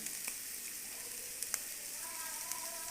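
Vegetables half-frying in a pan for Chinese vegetable pulao give off a faint, steady sizzle with a few soft clicks and stirring touches.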